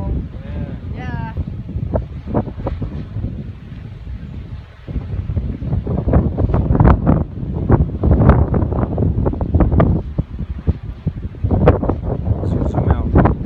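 Strong gusty wind roars across the microphone while a bamboo kite is flown outdoors, loud and continuous with rising surges, and voices talk over it.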